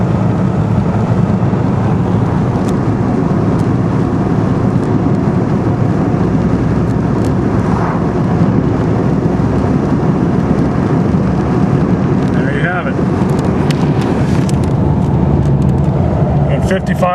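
A 1994 Ford Ranger with a 4.0 V6 engine pulls through its gears while driving. A loud, continuous engine drone and road rumble fill the cabin, with no clear pause between shifts.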